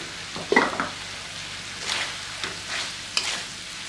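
Liver stir-fried with curry powder, onion and spring onion in a pan, giving a soft sizzle with a few scraping stirs and clinks, fairly quiet and steady with no talking.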